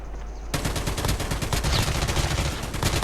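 Rapid gunfire in the mobile game Call of Duty Mobile, a dense burst of shots that starts abruptly after a short quiet moment and continues loudly to the end.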